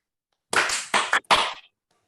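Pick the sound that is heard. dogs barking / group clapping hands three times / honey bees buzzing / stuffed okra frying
group clapping hands three times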